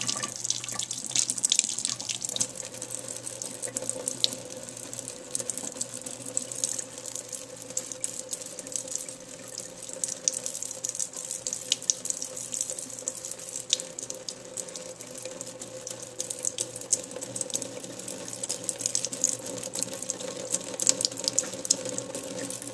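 A running water tap left flowing for a Bengal cat to drink from, a steady splashing trickle into a sink with occasional drips and clicks, close and continuous with no talking.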